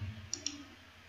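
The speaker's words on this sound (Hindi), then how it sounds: "मैं यहाँ पर वेरीफाई ओटीपी पे क्लिक कर दूंगा" Two sharp mouse clicks about a tenth of a second apart, pressing the verify OTP button on an online form for the RPSC 2nd grade teacher recruitment, quiet and close against a faint hum.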